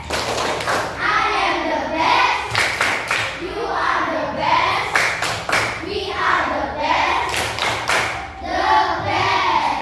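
A primary school class claps together in a rhythmic patterned cheer, with bursts of claps and thumps in a classroom while children's voices chant along.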